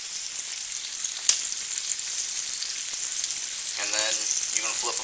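Thin slices of steak for Philly cheese steak fry in a hot pan, giving a steady, close hiss of sizzling with a single sharp pop early on and some faint stirring noise toward the end.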